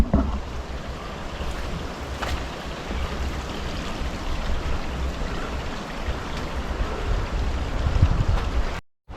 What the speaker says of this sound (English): I heard the water running below me, and you can see there's a pretty good stream of water running here